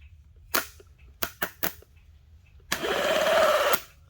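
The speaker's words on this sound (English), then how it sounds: "Jumper cables on the starter, little piece here for the solenoid, sparks" Electrical sparks snap as jumper cables touch the solenoid on the starter motor of a 1981 DeLorean, four sharp cracks, then the starter engages with a loud whirring buzz for about a second before cutting off.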